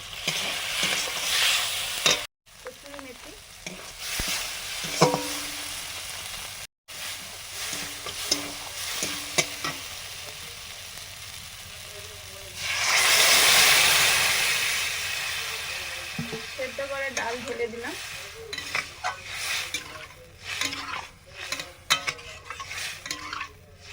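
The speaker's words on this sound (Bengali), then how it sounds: "ওদিকে তড়কা হচ্ছে" A tadka of asafoetida, ground coriander, cumin and chili powder sizzles in a pan while being stirred, with busy scraping and clatter and a loud hissing surge midway, close-up and without talk.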